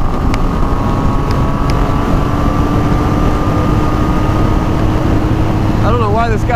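A Triumph Thunderbird Sport motorcycle cruises at highway speed, its engine droning steadily under heavy rushing wind noise, loud and continuous, with a short voice near the end.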